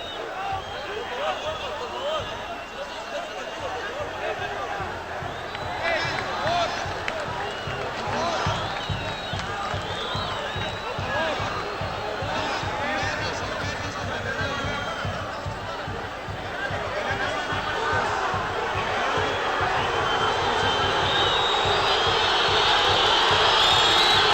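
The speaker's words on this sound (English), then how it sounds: "And the crowd voicing their displeasure now." A large stadium crowd at a Saprissa versus Monterrey CONCACAF Champions' Cup semifinal football match roars and jeers in a sustained, swelling wall of noise, growing louder toward the end, with a commentator talking over it.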